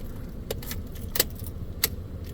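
Car keys for a 2007 Toyota Tundra jingle close by in a short burst, with a few bright metallic clinks spaced over a couple of seconds against a faint steady background hum.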